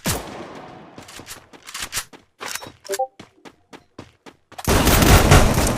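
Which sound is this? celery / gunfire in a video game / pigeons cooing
gunfire in a video game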